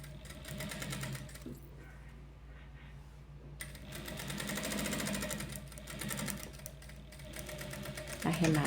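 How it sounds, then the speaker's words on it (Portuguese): A sewing machine runs steadily, stitching the final seam of a small fabric glasses case, with a close, continuous mechanical whir and brief pauses, under a person talking. "arremata e vai passar a costura, que é uma costura definitiva agora"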